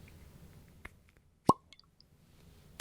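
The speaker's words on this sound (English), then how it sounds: "You ready for this cork pop?" A cork pops from a bottle of Balcones Mirador Eclipse edition whiskey, one sharp, close plop with a few faint clinks after in a quiet room.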